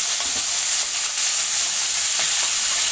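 Onions, tomatoes and garlic sauté in a hot pan with a loud, even, hissing sizzle that holds steady throughout.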